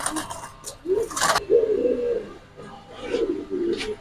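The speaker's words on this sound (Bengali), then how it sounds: "বোট ঠোঁটের কবুতর।" Pigeons coo in several low, throaty bursts with short pauses between them, close by, mixed with brief fluttery rustles and no clear talk.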